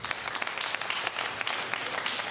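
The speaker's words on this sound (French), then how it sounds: "Applaudissez." An audience claps together at a French-language talk, a dense, even burst of applause lasting a couple of seconds at moderate volume.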